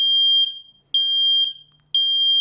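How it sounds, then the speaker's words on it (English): Google Nest Protect smart smoke alarm sounding during a test: three loud, piercing high-pitched beeps, each about half a second, in a steady on-off rhythm, close and alone with no talk. "The alarm may sound."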